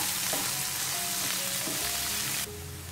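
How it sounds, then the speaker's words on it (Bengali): Onions and potatoes frying in a pan, a steady close sizzle with faint stirring scrapes, the texture shifting slightly near the end. "পেঁয়াজটাকে আলুর সাথে নেড়ে চেড়ে আরও এক থেকে দেড় মিনিট বেজে নিচ্ছে"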